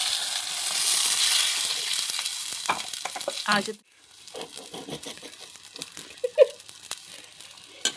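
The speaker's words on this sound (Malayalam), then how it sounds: "നേരത്തെ അരച്ച് വെച്ച അരപ്പ് മിക്സ് ആക്കണം" Coconut paste for a Kerala-style fish curry sizzles loudly in a pan, then the frying drops away abruptly, leaving softer scraping, stirring and crackling as the mixture is worked close up.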